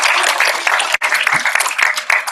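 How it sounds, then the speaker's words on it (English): A crowd applauds with dense, continuous clapping for a couple of seconds, loud and close, with a brief dip in the middle. "So round of applause for Ms. Jazz."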